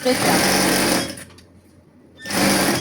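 A sewing machine runs top stitching on fabric for Christmas pyjamas, a loud close mechanical whirr for about a second, then a brief quiet pause before the stitching resumes.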